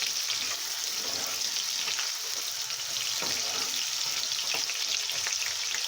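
Potatoes sizzle and crackle steadily in a pan while being stirred, with occasional scrapes and clinks, continuous and fairly close, no talking.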